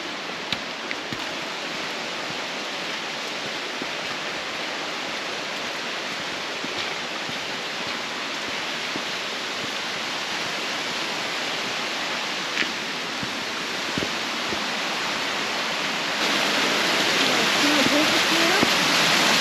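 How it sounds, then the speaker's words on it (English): A waterfall beside a riverside hiking trail roars as a steady, broad rush of falling water that grows slightly louder toward the end, with occasional faint footsteps and rustles along the path. "You can sort of hear the waterfall now, so we're not too far away."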